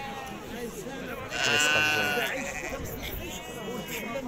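Sheep bleat at a livestock market selling local native rams, one loud bleat rising over steady crowd chatter and nearby talk.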